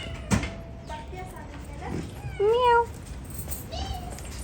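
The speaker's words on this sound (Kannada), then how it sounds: "ಅಜ್ಜಿ ಮೇಲೆ ಬೆಕ್ಕು ಬಂದಿದೆ" A cat meows at a grandmother's house, a short rising-falling cry around the middle followed by a fainter second meow, with people talking nearby over background household noise.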